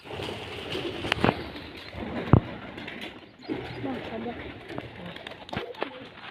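Pigeons coo nearby beside a well amid sudden clattering as they fly off, with people talking in the background.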